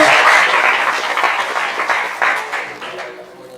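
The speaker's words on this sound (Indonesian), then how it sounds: "Tepuk tangan dong." Audience at a university guest lecture on bearing installation and maintenance at Universitas Tarumanagara breaks into dense, hissing applause that holds steady, then gradually fades over a few seconds.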